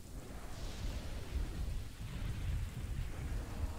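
Steady rain and deep rolling thunder fill a stormy scene in the video game Kingdoms and Castles, a constant dense wash of rainfall with low rumbles, heard alone without talk.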